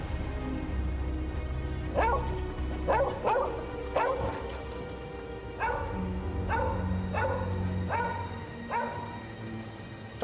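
A dog barks in a series of about eight sharp barks, spaced irregularly over a steady low background hum, fairly close and clear.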